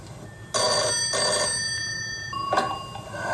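A telephone in an old Indian sitcom rings in two loud, close, trilling bursts, followed by a shorter electronic ring tone, over faint background hiss and no talking.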